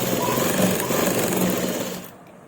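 A sewing machine stitches sleeves onto a kameez, running in a fast steady mechanical chatter, loud and close, before slowing and stopping near the end.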